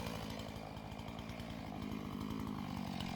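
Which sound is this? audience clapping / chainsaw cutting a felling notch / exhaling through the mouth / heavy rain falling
chainsaw cutting a felling notch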